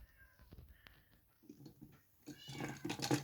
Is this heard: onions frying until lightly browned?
no